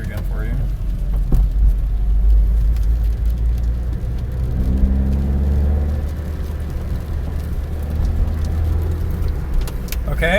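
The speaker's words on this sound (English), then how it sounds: "you're gonna do clutch in, blip the gas, and let out on the clutch while you're putting it in the lower gear" Inside a manual transmission car, the engine hums steadily while driving, with a short rise in revs midway as the gas pedal is blipped during a downshift, and a low rumble throughout.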